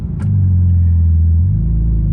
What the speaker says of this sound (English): I'm sure you can hear the Sport exhaust right now.